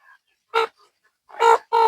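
Loud, close clucks from chickens and young cockerels in short bursts, a single call then a quick pair, with faint bird sounds between.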